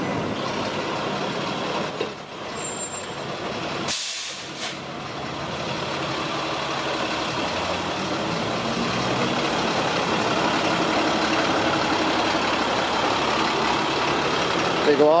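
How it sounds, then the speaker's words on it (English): A municipal water truck's engine rumbles along a town street in Mazatlán, a steady broadband drone that swells gradually as it nears, with a brief lull around the midpoint and faint street noise in the background. "They go all over town with that water truck, watering the little plots of grass and the palm trees"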